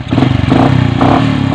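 A Bajaj CT 100 motorcycle with a lowered stance and an aftermarket exhaust revs close by after an overhaul in Bulacan. The engine gives a loud, rough, pulsing roar with quick throttle blips.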